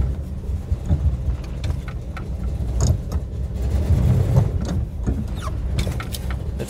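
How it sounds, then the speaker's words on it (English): A Rolls-Royce engine runs up close with a misfire, a rough, uneven idle with irregular stumbles and small squeals breaking through the steady rumble. "It's definitely got a misfire."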